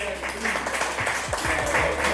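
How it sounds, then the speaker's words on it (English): Audience applause at a Black Future Month panel discussion, a steady wash of clapping with some voices mixed in, moderately loud throughout the short stretch. "Mr. Goodass Pickles, give him a round of applause"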